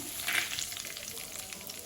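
Curry leaves dropped into hot oil with spluttering mustard seeds and cumin, giving a loud burst of crackling at first that settles into a steady close sizzle, with no voices.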